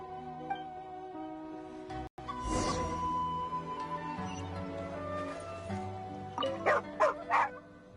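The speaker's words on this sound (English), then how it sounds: "there's a good dog. Calm down." A dog in the video game Genshin Impact gives a few short, yipping barks near the end, over soft game music and ambient tones.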